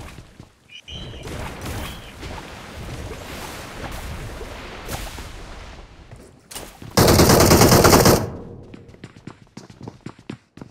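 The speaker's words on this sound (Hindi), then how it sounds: "बंदूक मारो, वो गन मारो, गन मार के आ जाओ" Gunfire in the BGMI mobile battle royale game: rapid bursts of shots and thuds run throughout, with a loud, dense stretch of sustained fire near the end, then scattered clicks.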